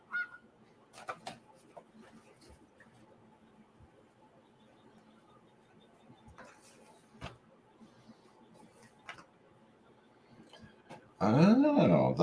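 Geese honk in a short loud burst at the end, following a quiet stretch of faint scattered clicks and bumps.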